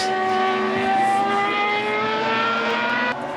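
A Ferrari Formula One car's engine roars past at a show event, a loud high-pitched wail holding steady for several seconds, then cutting back abruptly near the end.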